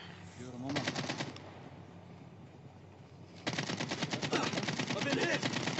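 Rapid automatic gunfire in a video game rattles in two long bursts, a brief one then a sustained stretch, fairly faint and steady, with a voice talking quietly beneath.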